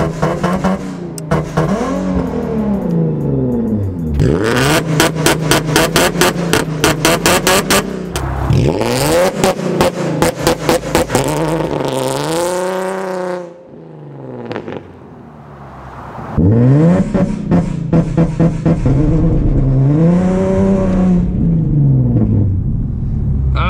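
A Nissan 370Z engine revving hard on repeated launch-control runs, loud close bursts of rising and falling revs with sharp crackling pops from a 2-step limiter, a brief quieter idle dip midway, no talking.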